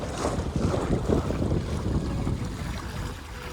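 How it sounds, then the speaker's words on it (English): Strong wind roars and gusts across the microphone on a moving sailboat, with water rushing beneath in a constant loud wash. "It's pretty windy and the wind changes a lot"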